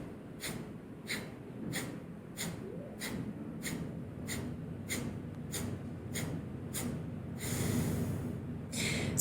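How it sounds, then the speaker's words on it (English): Rapid rhythmic yoga breathing forced out through the nose, about a dozen sharp evenly spaced huffs, close and fairly quiet, with a quicker burst of breaths near the end. "hopefully you can hear a little bit of that noise that I'm making with the nose and not so much the throat"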